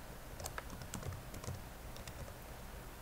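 Quiet, steady typing on a computer keyboard, a continuous patter of soft key clicks under a low background hiss, close by and without pauses.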